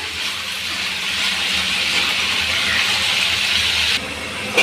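A pressure cooker vents with a loud, steady hiss of steam while field beans cook, the sound continuous and close for several seconds before briefly shifting near the end.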